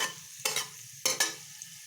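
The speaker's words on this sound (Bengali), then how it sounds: "গাজরটাকে একটু ভালোভাবে ভেজে নেব" Diced carrot fries in a pan for poha, a soft low sizzle broken by three quick stirring scrapes of a spatula.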